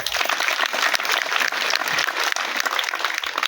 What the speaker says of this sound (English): let's give him a mighty hand clap